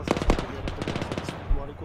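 Burst of rapid gunfire in the military shooter game Arma 3, with several sharp, loud shots in quick succession during a co-op battle, mixed with some voice chatter.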